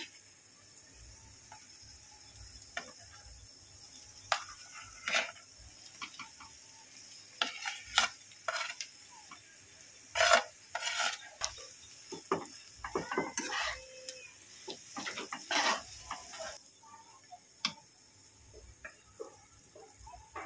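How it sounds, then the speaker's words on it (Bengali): Grated potatoes go into lightly browned onions in a frying pan and are stirred, giving a faint background sizzle under intermittent scraping, clinking spatula strokes that come in irregular bursts. "এবারে এর মধ্যে আমি আলুগুলো দিয়ে দেবো গ্রেট করে।"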